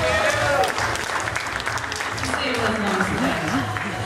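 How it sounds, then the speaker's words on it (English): A room of people at a speed dating event claps steadily, a loud, even wash of applause with a voice talking over it toward the end. "Give him a round of applause for that."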